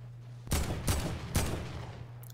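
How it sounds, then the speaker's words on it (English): Gunfire in Fortnite, a video game: three loud, sharp shots roughly half a second apart, each trailing into a crackling burst, over a steady low hum. "someone else is shooting at him"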